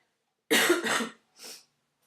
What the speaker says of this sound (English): we'll talk about my cough and my lungs